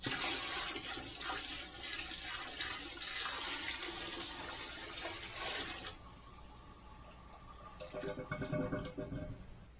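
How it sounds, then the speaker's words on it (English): Bucket of water dumped straight into a toilet bowl to force a flush, a loud rushing gush for several seconds that cuts off, then a gurgling draining swirl near the end. "If you've got a bucket of water, we can dump this in straight into the bowl and get it to flush."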